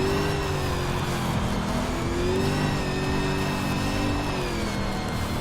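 A racing car engine in a racing video game runs hard and loud, a steady high-pitched whine that rises and dips slightly as the revs shift, with no voices.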